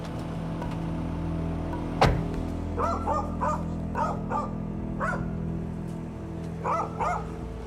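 Dogs barking at a deserted camp in the Amazon rainforest: one sharp bark, then a string of several mid-distance barks at uneven intervals over a constant low background hum.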